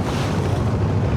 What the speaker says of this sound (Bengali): আমাদের ট্রলারটি কালবৈশাখী ঝড়ের কবলে পড়েছে